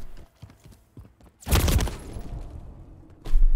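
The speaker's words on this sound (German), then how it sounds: "Junge, 4 Schüsse, 4 Treffer." Gunfire in the video game Call of Duty Modern Warfare 3: a few soft clicks, then a loud sudden burst of shots that fades out, and another sharp blast at the end.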